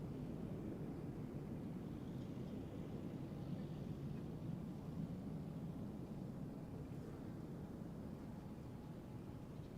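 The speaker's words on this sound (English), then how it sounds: "The next flight up. KLM flight to Portland, the 787 Dreamliner." KLM Boeing 787 Dreamliner jet at Amsterdam Schiphol, bound for Portland, heard as a steady, fairly loud low engine roar and rumble with broadband hiss that holds evenly throughout without pause.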